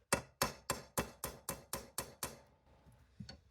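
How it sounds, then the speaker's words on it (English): A hammer drives a regular nail through a rivet hole in a steel splint armguard: nine sharp, ringing metallic strikes in an even, quick rhythm, close and loud, then a pause before one lighter tap. "grab the hammer and just start hammering"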